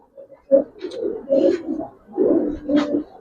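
Domestic pigeons, Giribaz and coloured fancy breeds kept in a loft with one sitting on eggs, give several soft, low throaty coos in a close, irregular series, with a few brief faint chirps mixed in.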